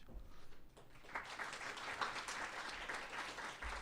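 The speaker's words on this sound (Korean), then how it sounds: "격려의 박수 한번 부탁드리고요" A church congregation claps to welcome the pastor to the front, a faint, scattered patter of hands that gradually thickens into steady applause.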